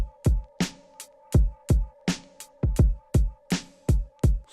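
A simple hard drum beat programmed on an MPC One: punchy kick and snare hits in a steady, evenly spaced pattern with a faint sustained tonal layer underneath, about ten hits over four seconds, loud and close, no talk.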